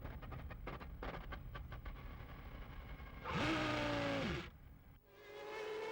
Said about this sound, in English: and you can hear the car spluttering